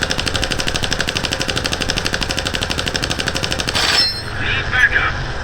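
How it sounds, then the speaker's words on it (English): Rapid aircraft gunfire in the War Thunder video game, a dense rattling burst lasting about four seconds before cutting off into quieter engine drone with faint background sounds. "I'm gonna try and hit a couple shots."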